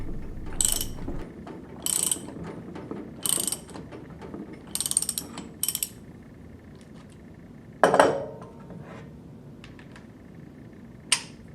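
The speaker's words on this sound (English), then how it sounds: "Install the lock nut and tighten to the appropriate torque setting using a deep bore socket and torque wrench." A torque wrench with a deep bore socket tightening the lock nut on a Viking pump during repair kit installation, giving several short bursts of ratcheting clicks, then one louder metallic clank and a final sharp tick.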